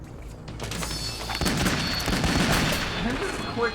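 Rapid gunfire hits soldiers in Metal Gear Solid 2. Close, loud bursts and booming shots pile into a continuous barrage for a few seconds.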